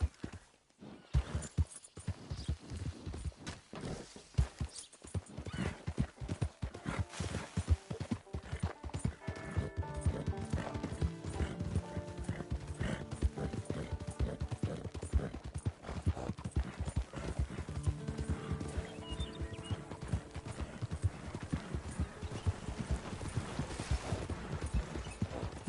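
A horse's hooves clop steadily in Red Dead Redemption, a brisk rhythmic trot that runs the whole time at close range, with a brief whinny and faint ambient game sound behind it and no talking.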